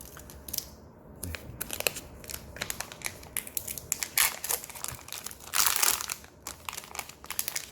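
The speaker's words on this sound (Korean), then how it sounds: "한쪽 비닐을 가위 등을 이용해서 이렇게" The plastic wrapping on a block of modelling clay is snipped open with scissors, giving close, crisp crinkling and cutting snaps in uneven bursts, with a louder rustle near the end.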